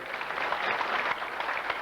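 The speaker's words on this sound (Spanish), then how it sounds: "entonces vamos a aplaudirlo al querido Miguel" Sustained applause from a festival audience at a live music event honoring a performer, a dense steady wash of clapping filling the whole stretch at close, loud level.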